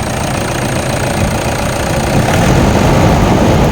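A 2014 Toyota Innova engine runs close by with a steady, loud drone. It rises slightly in strength partway through as it is revved gently, with no voices heard.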